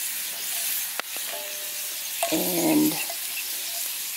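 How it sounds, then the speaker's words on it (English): Corn tortillas fry on a campfire under a steady background hiss, with a brief louder sizzle and spatter about midway, plus a couple of sharp clicks; a voice says a word near the start. "I'm gonna cook some of these corn tortillas"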